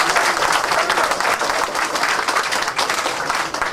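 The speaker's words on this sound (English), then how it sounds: "Let's have a round of applause for the greatest ring announcer in boxing today" An audience at a boxing gathering applauds ring announcer Bob Alexander, giving a sustained round of clapping that stays loud and even throughout.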